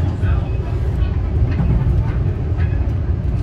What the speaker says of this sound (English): aboard Metra train 2707, headed from Chicago Union Station to Elgin, Illinois